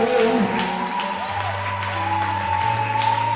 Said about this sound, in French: Acclame pour notre grand Dieu.